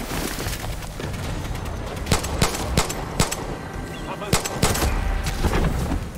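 Bursts of enemy gunfire from the Far Cry 6 shooter game crack out in a loose series of sharp shots over a steady background, some louder and closer than others.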